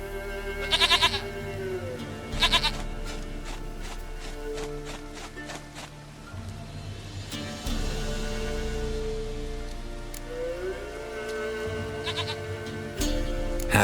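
Goat bleating in The Witcher 3 video game, several sharp nasal bleats at intervals over a soft background of rain and game ambience, with no talk.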